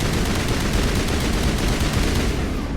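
Plasma rifle gunfire in the video game Mass Effect Legendary Edition: a loud, dense, continuous stream of rapid shots filling the whole moment, with no talking.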